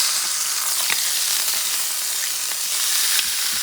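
A top sirloin steak sizzles on a stove-top grill, a steady dense frying hiss close up with faint crackles and pops throughout, no voices.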